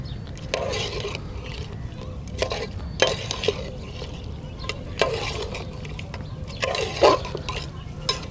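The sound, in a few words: tossing pepper chicken masala gravy together in pan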